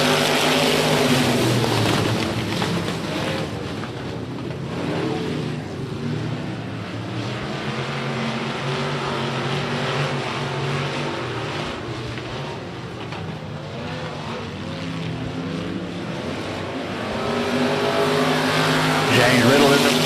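Modified race cars roar together at Big O Speedway, a loud continuous wall of engine noise as the pack takes the green flag, with an announcer talking over it.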